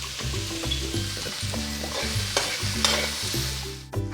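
Thick masala for mutton chukka sizzling in a pan as a spoon stirs it in steady repeated scrapes, loud and close, with no talking.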